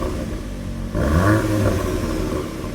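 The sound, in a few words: VW Golf GTI Clubsport Mk8.5 Akrapovic exhaust revving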